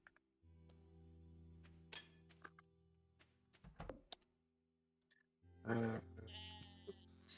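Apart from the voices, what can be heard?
sheep bleating in the video game Stardew Valley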